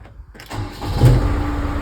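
A Venieri 8.23E articulated backhoe loader engine turns over and catches after a brief pause, then settles into a steady, fairly quiet idle heard from nearby.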